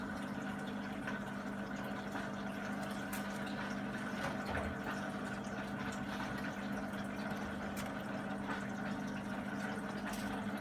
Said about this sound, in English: it sounds like it's draining out just fine and the water's coming out